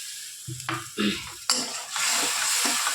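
A few metal clinks and stirring scrapes in a pan of frying yam and prawn masala, then a sudden loud, close hiss as turmeric water is poured in, settling into a steady sizzle with no speech.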